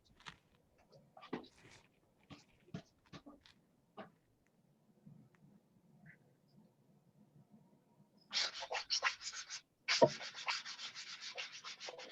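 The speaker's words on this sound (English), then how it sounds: "wrap the sandpaper around the wooden dowel and use it to sand the inside of the ring too" Sandpaper wrapped around a wooden dowel rubs the inside of a rocket workshop ring, first in sparse faint scratches, then in loud close bursts of rapid back-and-forth sanding near the end.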